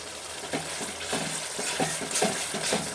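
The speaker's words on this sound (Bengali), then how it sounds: "এখন আমি মটনটা দিয়ে দেব" Mutton goes into a pan of spice masala cooked with yogurt, giving a steady frying hiss with rhythmic scraping strokes of stirring repeated about every half second, moderately close.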